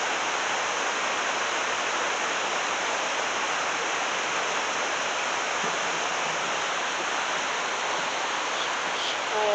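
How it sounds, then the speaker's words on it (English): A low river flows steadily on a cold morning, a continuous broadband rush of moving water, close and even, with no talking. "see what the river looks like this morning"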